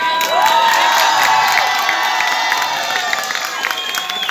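An audience at a stage show in Sušice cheers, whoops and shouts together in a loud, continuous crowd roar that holds steady and then eases slightly toward the end.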